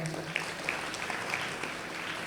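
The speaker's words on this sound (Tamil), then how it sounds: "நல்லா ஜோராக கைதட்டுங்க" An audience at a women's conference award ceremony applauds steadily, a dense wash of clapping with scattered louder claps, continuous throughout and close by.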